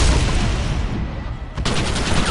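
Dense gunfire rattles through a battle in the video game Red Dead Redemption as barrels are shot, a loud continuous barrage of overlapping shots with a brief dip before the firing resumes.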